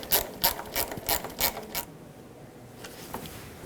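Screws being snugged into plastic with a ratchet on the hood-hinge and corner-light area of a 1995-2004 Toyota Tacoma: a quick run of about eight close, sharp pawl clicks in a steady rhythm, then quiet.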